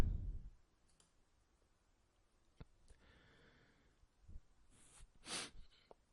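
A computer mouse clicks on a browser button, giving a few faint, sharp clicks spaced apart in a quiet room with soft breathy noise between them.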